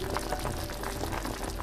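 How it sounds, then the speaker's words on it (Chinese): Golden pumpkin soup with sturgeon cord simmering at a rolling boil in a pot, a soft close-up bubbling and gurgling with quick popping bursts, heard alone and fairly faint. "它已经沸腾了，听声音"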